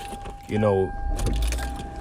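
Keys jangle as a man gets into his car, a brief metallic rattle near the mic, followed by a short shuffle and thuds of settling in, with his voice speaking briefly over the sounds.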